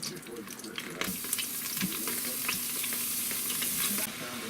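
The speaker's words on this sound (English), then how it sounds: "I'm gonna sit there and quickly stir fry it all up inside of the Instapot" Beef stir-fries in hot oil inside an Instant Pot, a dense, continuous sizzle with repeated sharp clicks and scrapes from quick stirring, close and fairly loud, with no talking.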